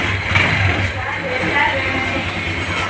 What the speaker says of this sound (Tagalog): Papakinggan natin yung takbo ng motor.